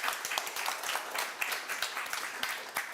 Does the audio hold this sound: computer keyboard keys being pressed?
no